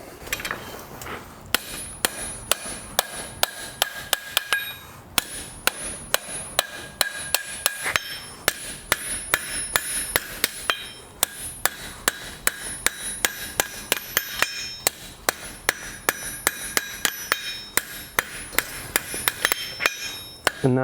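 A blacksmith hammers the edges of a toaster handle on an anvil, delivering rapid, ringing metallic strikes in steady runs with brief pauses between them, loud and close.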